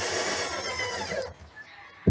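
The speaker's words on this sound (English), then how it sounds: "you don't want to hammer it with a drill at maximum speed" A power drill drives screws into soft wood while fitting fuel lines on a trimaran, a close whirring grind that winds down and stops, followed by a quieter pause.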